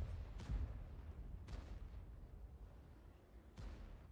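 Three heavy booms from a tank's main gun in a tank battle video game, spaced roughly a second and two seconds apart, each a sharp blast with a rumbling decay over quiet background.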